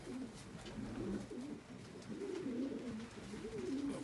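Pigeons in a loft give repeated low rolling coos, several birds overlapping in a steady murmur, near and moderately loud, with no talking.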